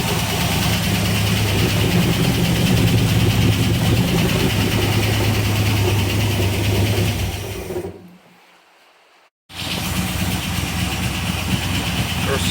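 A V8 engine with a carburetor runs at a steady idle, with a slight cam noise on one side. It is loud and close, cuts out briefly near the end, then picks up again.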